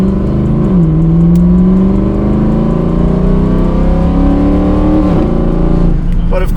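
A Mercedes E63 AMG engine with a persistent misfire revs hard while driving, loud and close, its pitch climbing and falling through steady gear pulls with a brief lift near the end.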